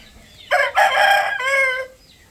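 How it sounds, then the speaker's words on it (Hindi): Roosters fighting give a loud, close crow, a strained cock-a-doodle-doo in two bursts with a brief break, then the call fades into quiet. "तो वापस आए हैं तो जनाब देखा मुर्गे लड़ रहे थे।"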